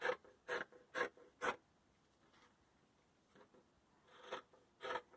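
Scissors cutting through four layers of cotton mask fabric, a quick run of four sharp rasping snips, then a quiet pause and two more snips, close and dry.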